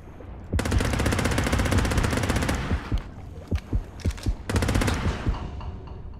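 Rapid automatic gunfire in the video game Depth, a long loud sustained burst, then several separate single shots in an uneven rhythm, followed by another dense burst, close and dominant.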